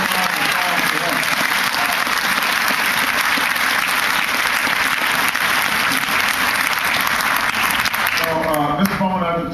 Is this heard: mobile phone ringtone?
no